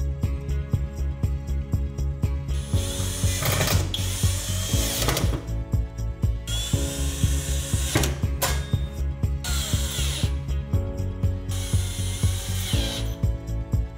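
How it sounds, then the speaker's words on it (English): A power screwdriver drives screws to reattach the broiler to the oven ceiling of a Hisense gas range, with repeated whirring bursts and ratcheting between short pauses, close and loud. "Using the five screws previously removed, reattach the broiler to the oven ceiling starting with the front center screw."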